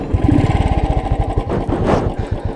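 Royal Enfield Thunderbird 350 motorcycle exhaust, a loud, close, steady rapid thumping beat that swells briefly near the end, with no voices.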